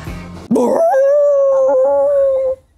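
A human voice imitates a sad dog crying and whimpering behind a door, a single loud, sustained howl-like wail that rises in pitch then holds steady for about two seconds before stopping.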